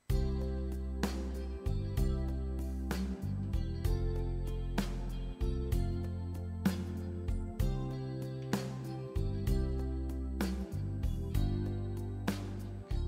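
A Yamaha Genos arranger keyboard accompaniment in an 80s ballad style, with steady bass notes and drum hits at a slow tempo, playing alone with no voices.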